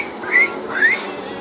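A 12-year-old boy imitating a bird call: two short whistled chirps, the second rising in pitch, close and fairly loud over a faint background.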